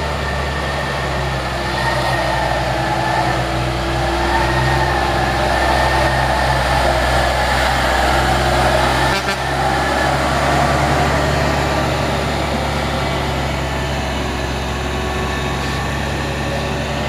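Orange tronton heavy truck grinding uphill on a steep climb in heavy rain, a steady low engine drone mixed with constant rain hiss, sustained and even throughout.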